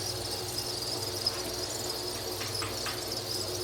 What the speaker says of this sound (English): I'm the only one in Florida with brown crickets.